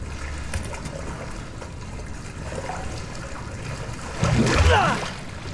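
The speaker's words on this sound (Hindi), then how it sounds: "कैसे बुबले उठ रहे हैं इसमें से?" Underwater bubbles rising from murky water in Resident Evil 7, a soft gurgling trickle that swells into a louder burst of bubbling and splashing near the end.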